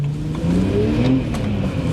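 A BMW 130i with an N52 engine revs hard while accelerating on the road, a loud rising engine note climbing through the revs inside the car.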